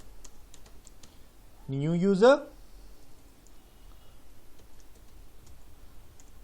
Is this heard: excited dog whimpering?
no